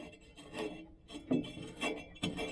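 Fingertips rub over surface rust on a ride-on mower pulley wheel from a 1970s machine, making soft, close, gritty rasping strokes in several short repeated passes.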